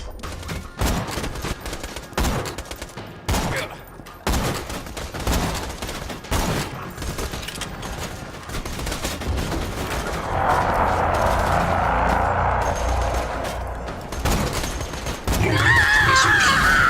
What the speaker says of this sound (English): Launching protector turret.